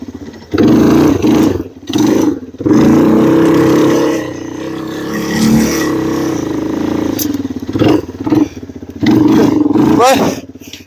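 A Yamaha 225DR outboard engine with a sticking throttle runs and revs loudly, its pitch rising and falling in uneven surges with brief drops, while someone talks over it.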